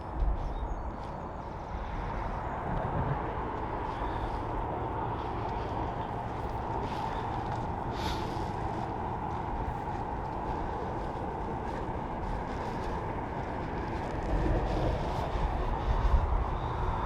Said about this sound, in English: There's a train going by over there, way in the distance to you, heading towards Liverpool.